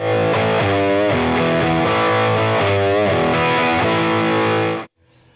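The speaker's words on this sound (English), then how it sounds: "Now it says British with distortion." An electric guitar plays through a Fender Champion 50XL amp on its British distortion setting, giving a saturated, crunchy tone. Chords and melodic runs ring out loud and alone, then cut off abruptly near the end.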